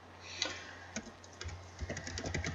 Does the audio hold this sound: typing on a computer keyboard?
yes